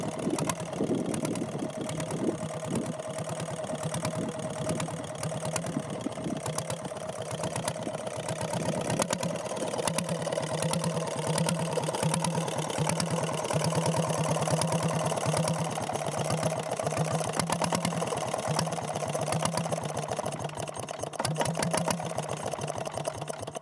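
A Farymann KS stationary single-cylinder diesel engine runs steadily at close range, a loud continuous mechanical drone with a fast, even knocking pulse that holds throughout.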